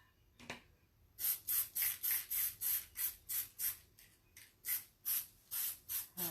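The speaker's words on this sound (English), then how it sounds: "I'm just going to put a really light coat on both sides just to kind of cover up that natural wood." Quick bursts of spray paint hiss close by as a light coat of frosty finish goes onto a small wooden leaf, about a dozen short puffs in a steady rhythm after a brief pause at the start.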